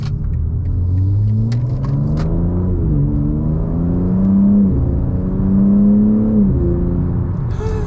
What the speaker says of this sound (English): We're gonna take off onto the street here and see how it does.